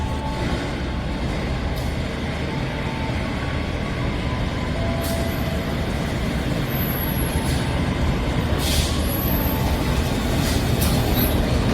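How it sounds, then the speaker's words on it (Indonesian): The Argo Wilis express train runs through a station with a continuous heavy rumble of wheels on rail, punctuated by several sharp high squeals from the wheels, loud and close, with no talk. "Untuk kereta api Argo Wilis ini harus telah melintas dari stasiun Sepanjang"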